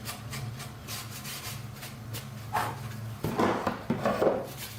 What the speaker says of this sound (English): I'm just gonna take this, dust it off real quick, get all those loose debris, the little plastics that I sanded down